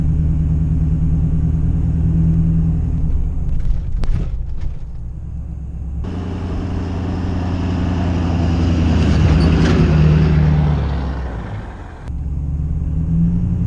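A lifted truck on mud-terrain tires rolls over fresh concrete, giving a loud, continuous rumbling hum that swells and fades as the truck moves, with no voices.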